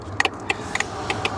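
A Hornet 742T car alarm module clicking inside a Pontiac Solstice: a rapid series of sharp, close clicks, several coming in quick pairs, over a low steady hum.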